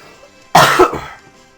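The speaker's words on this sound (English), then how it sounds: "I apologize if I cough on and off in this match." A single sharp cough from a man who is sick, loud and close, breaking in abruptly after quiet and trailing off over about half a second.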